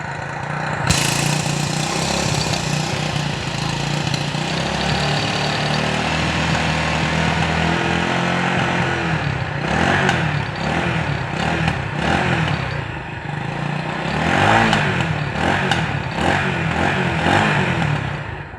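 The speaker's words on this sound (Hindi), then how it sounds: "लो माउंटेड एग्जॉस्ट दिया हुआ है, तो इसकी साउंड हम ज़रा चला के देखते हैं कि साउंड किस तरीके की है।" A 2021 Lifan SS3 175cc single-cylinder motorcycle with a low-mounted exhaust runs steadily, its even engine drone rising into a few throttle blips near the end, close and loud with no talk over it.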